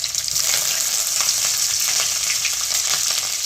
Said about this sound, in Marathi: सगळ्यात पहिले दालचिनी तुकडा टाकायचा तडका मिरची टाकायची कढीपत्ता टाकायचा हिरव्या मिरच्या टाकायच्या